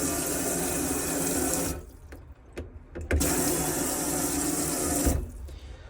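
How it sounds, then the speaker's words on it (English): Water gushing from a campervan tap fed by a submersible tank pump, running in two bursts separated by a short pause with light clicks, then resuming with a steady splashing flow into the sink. "if I come over to any of the taps, the micro switch inside the tap will allow water to come out."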